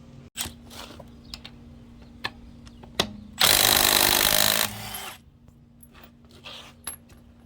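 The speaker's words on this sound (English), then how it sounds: "Let's attack the lug nuts." Impact wrench removing lug nuts from a Toyota Sienna wheel during a rear brake check: one loud, close buzzing burst lasting about a second, set among scattered clicks and clinks of tools and sockets.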